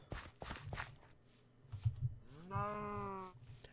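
Cattle lowing in a video game, a drawn-out moo near the end following scattered footsteps and soft thuds, fairly close and clear with no talk over it.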